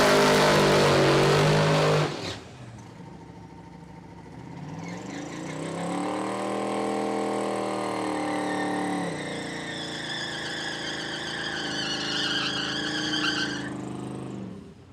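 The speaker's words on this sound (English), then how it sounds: "Gotta love those burnouts." Race cars do burnouts at the Miles Of Mayhem event, tires screaming in a loud sustained squeal with engine revving rising and wavering, after a brief burst of louder noise at the start.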